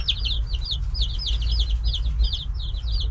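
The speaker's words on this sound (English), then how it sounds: "I wonder which one's the rooster." Steady high-pitched peeping and chirping from young chicks, repeated in quick bursts over a low background hum, close by.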